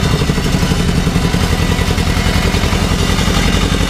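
An Ursus C-325 tractor engine chugs during a slow ride, heard close and loud as a dense, steady, rapidly pulsing clatter with no break.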